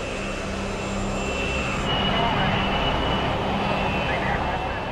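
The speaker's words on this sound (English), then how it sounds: "it reaches takeoff speed in just 365 meters" A jet airliner accelerating for takeoff, lightly loaded with no passengers and little fuel: a steady, loud engine roar builds slightly and holds, a broad rushing drone with a faint high whine, continuous throughout.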